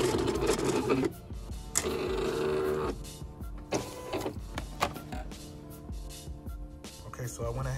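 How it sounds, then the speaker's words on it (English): A vinyl cutter cuts glossy vinyl with a steady mechanical whir, broken by short stops and restarts as its motors shift back and forth, close and moderately quiet, without speech. "And we're gonna send this to the cutter."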